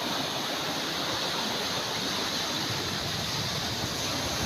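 Large sea waves whipped up by Typhoon Opong, two to three meters high, crash and wash in a steady, loud, dense roar with no break for the whole stretch.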